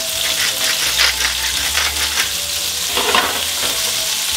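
Mushrooms sizzle loudly in a hot pan for a creamy pasta and are stirred and turned repeatedly, giving a continuous close frying hiss with scraping bursts as they move.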